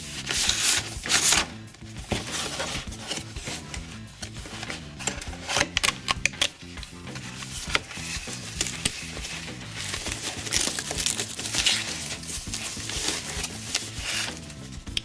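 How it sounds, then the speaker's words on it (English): Cardboard packaging of a Samsung desktop keyboard dock for a Galaxy Tab is opened up close, giving a run of crisp rubbing, tapping and crinkling sounds with sharp clicks scattered throughout and no talking. "Let's go ahead and open up the box."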